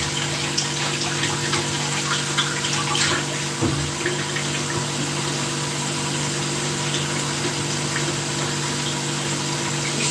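Tap water runs steadily into a sink during rinsing, a continuous broadband rush with a low pump-like hum beneath it, close and loud for the whole stretch with no talking.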